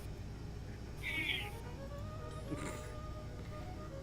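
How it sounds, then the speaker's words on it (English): A single short cat meow from a video game, fairly clear against a low background hum, followed by quiet talk and faint game sounds. "Yes, cat. The game has decided to meow."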